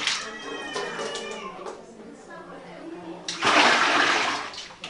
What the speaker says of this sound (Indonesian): Siram air.